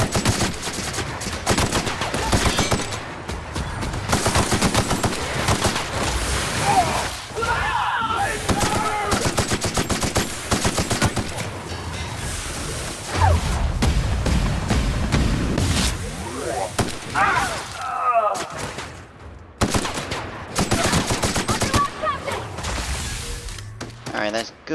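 Rapid video game gunfire rattles almost continuously in loud bursts, with explosions and crashes mixed in and a voice talking over the action.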